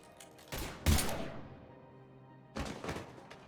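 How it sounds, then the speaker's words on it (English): Gunfire in the video game Mass Effect Legendary Edition: two short, loud bursts of shots about two seconds apart, each cracking sharply and then decaying, with no talk over them. "Now open fire!"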